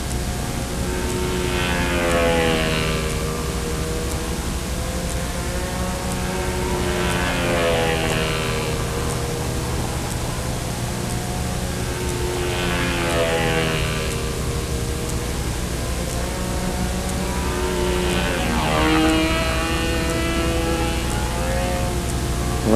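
A model airplane flies in gusty wind at the 2003 NATS competition. Its engine whine rises and falls through four repeated passes over a steady rush of wind, with no talking.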